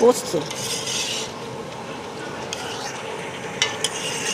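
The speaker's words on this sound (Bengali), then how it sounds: "পোস্ত আর চালমগজ বাটা ভালো করে কষানো হচ্ছে বন্ধুরা।" Poppy seed and melon seed paste sautés in a pan, with scraping, rasping stirs of a spoon and a light sizzle, close and steady with a few sharper knocks.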